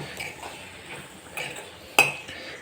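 Boiled green chickpeas are mixed into spiced oil in a pan for a Surti-style curry, with soft stirring and scraping punctuated by a few light metal clinks and one sharp clank near the end.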